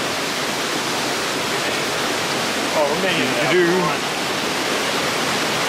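River water rushes steadily as a broad, constant wash of flowing noise, close and loud, with a voice briefly heard over it midway.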